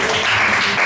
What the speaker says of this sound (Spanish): Puedo darle un aplauso al Señor.